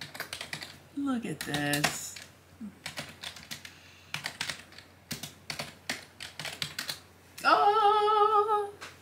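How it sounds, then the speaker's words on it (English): Keystrokes tapped on the tiny keyboard of an 8-bit BASIC computer kit, a run of light, quick clicks at close range mixed with brief voices and a short electronic beep tone near the end. "some of the keystrokes are secret now"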